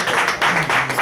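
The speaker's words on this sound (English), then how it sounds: "A round of applause for the Lord Jesus." A church congregation applauds during a Sunday morning service, producing a dense, steady burst of close, loud clapping.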